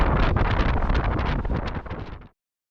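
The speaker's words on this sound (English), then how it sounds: "The wind is rocking." Wind gusting during a mountain bike ride on a desert ridge near Las Vegas, a loud close rush and buffeting against the microphone that cuts off abruptly, with no talking.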